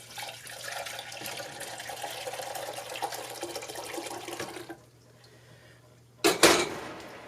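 Dishes are washed by hand in soapy hot water in a sink, with close sloshing water and clinking plates and cutlery, then a quiet gap before a sharp clatter of dishes near the end.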